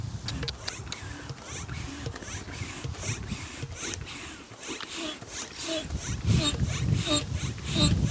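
A hand pump inflates an inflatable tent with a series of rhythmic, breathy whooshing strokes, about one per half second, close by, and a voice talking faintly underneath.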